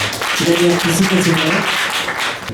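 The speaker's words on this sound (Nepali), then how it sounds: "कृपया अरूहरूले निरन्तर रूपमा ताली बजाउँदै गर्नुहोला।" Audience applause at a Daisy book reader handout ceremony in Lalitpur, Nepal, a steady patter of clapping with a voice speaking over it.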